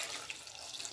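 Water poured into a pressure cooker for a salted pumpkin dish, a steady close splashing pour lasting about a second with no talking.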